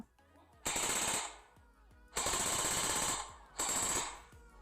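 Machine-gun sound effect: three loud, harsh bursts of rapid automatic fire, each roughly a second long, separated by short gaps, with no voices.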